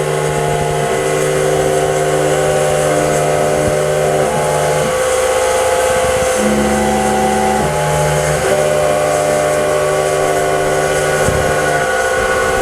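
A CNC milling machine's spindle motor runs steadily with shifting tonal hums as it steps through speeds and drills into a workpiece, a continuous loud mechanical drone with no talking.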